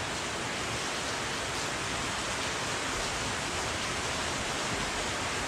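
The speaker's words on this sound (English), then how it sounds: "Wow, it started pouring rain." Torrential rain pours down steadily during a sheepshead fishing trip outdoors, a dense unbroken hiss filling the whole stretch with no voices.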